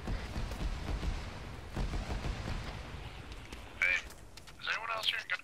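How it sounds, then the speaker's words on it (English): In the military video game ArmA 3, 30 mm cannon rounds explode in a series of distant, rumbling low booms spread across the clip, with a radio-like voice speaking briefly near the end. "It's 30 millimeters, not gunshots. No, that's explosions."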